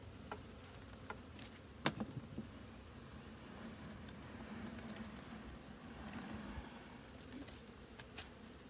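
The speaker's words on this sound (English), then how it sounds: "You see all those bees that have been foraging, they're coming back, going, where's our place?" Honeybees fly back to a keeper's hive, a faint soft buzzing and droning near the hive with a few louder passes close by, set against a quiet outdoor background.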